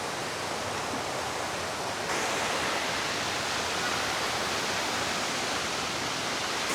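Clear river water rushes loudly and continuously close by, a dense steady roar that swells slightly partway through and then holds.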